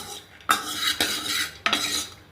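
Peanuts and raisins fry in ghee while a metal spoon scrapes and clacks against the pan in three sharp strokes over a low sizzle.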